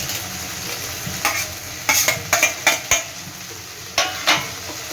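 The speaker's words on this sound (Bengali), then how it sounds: "এটা একটু কষা হোক মশলাটা। আমার কষা হয়ে গেছে, এইবারে আমি ক্যাপসিকামটা দিয়ে দেবো।" Spice masala sizzles in a pan while being stir-fried for a young jackfruit kofta curry, with a steady hiss broken by sharp bursts of a spoon scraping and clattering against the pan.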